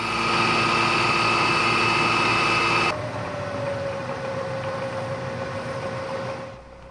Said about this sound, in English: Switching over to a high-speed steel end mill, I'll plunge cut along the path between the two drilled holes